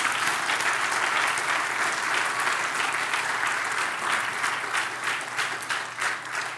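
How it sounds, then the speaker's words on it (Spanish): A church congregation applauds, a dense sustained clapping from many hands that stays fairly even before slowly thinning out. "Dale un aplauso al Señor"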